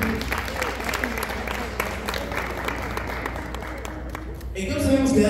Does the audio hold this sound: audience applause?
yes